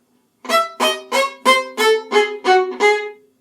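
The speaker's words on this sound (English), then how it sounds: "on the string, very short bow strokes." Eight short, evenly spaced staccato notes bowed on the string of a viola play up close, each one crisp and separated, stepping slightly in pitch.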